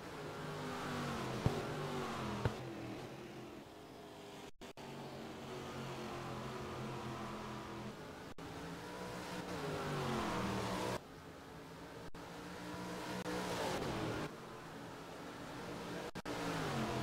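Race cars at a motor race accelerate continuously through gears, engines revving loudly with repeated shifts and lifts, a steady sustained roar from a fairly close trackside position with no voices heard.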